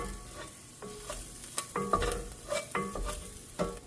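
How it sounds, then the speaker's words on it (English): Ground beef and garlic sautéing in a pan, quiet background sizzle broken by irregular scraping and clanking stirs of a utensil, close by and fairly soft, with no speech. "just gonna want to saute this with the ground beef."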